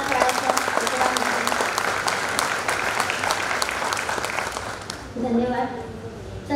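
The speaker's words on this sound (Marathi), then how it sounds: "सर्वांनी जोरदार टाळ्या." An audience at a Marathi talk event applauds in a dense, sustained burst of clapping that fades out near the end as a voice begins speaking.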